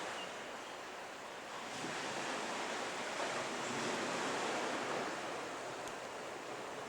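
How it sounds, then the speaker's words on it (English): Ocean surf rolls onto a beach on the west coast of the Big Island in Hawaii, a soft, steady wash of breaking waves swelling gently, heard at a distance with light wind. "Look at the surf."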